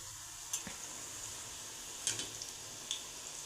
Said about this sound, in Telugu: ఇలా సౌండ్ రావాలి సో ఇలా సౌండ్ రావడం వల్ల ఇవన్నిటి క్రిస్పీగా ఉన్నాయని మనకు తెలుస్తాయి